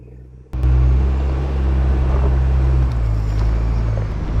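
Pickup truck on new Eibach suspension and KO3 tires climbs a slope, its engine starting abruptly into a loud, steady low rumble with some wind buffeting, close and sustained without talk.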